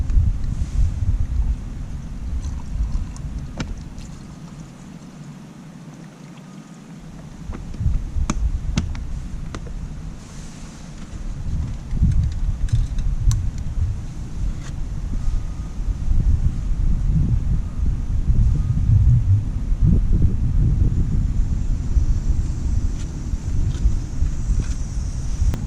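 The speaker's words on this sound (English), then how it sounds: "it's been pretty windy" Steady, gusty wind rushes across a campsite and buffets the microphone in a continuous rumbling roar, easing briefly before building again to a strong, sustained blow, with no talking.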